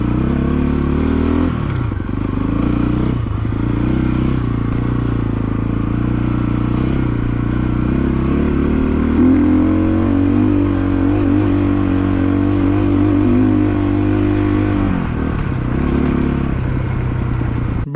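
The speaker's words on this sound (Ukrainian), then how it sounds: "Заводимо цей мотик, заводиться гарно, взагалі класно заводиться." A KOVI JNR 250 enduro motorcycle from 2024 runs at a steady idle, its low engine drone close and continuous, with a brief rev that dips and picks back up.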